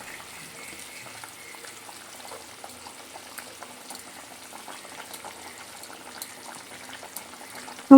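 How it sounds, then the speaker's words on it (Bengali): Pieces of fried shol (snakehead) fish slide one by one into a simmering sour curry cooked with amra (hog plum), giving a steady low bubbling with faint soft plops and trickles, with a brief louder clatter right at the end. "এক এক করে ঝোলের মধ্যে মাছগুলো আমি ছেড়ে দিচ্ছি।"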